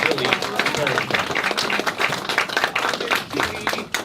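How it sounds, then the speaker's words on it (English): Convention panel audience at Sakura-con 2019 clapping, a busy, uneven patter of many hands throughout, moderately loud with some crowd voices underneath. "So can we please have a round of applause"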